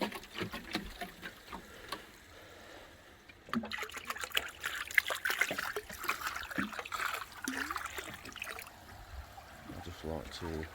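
Water splashes and trickles steadily for several seconds as potassium permanganate solution is poured into a koi pond, a continuous pouring wash with a voice talking over it at the start.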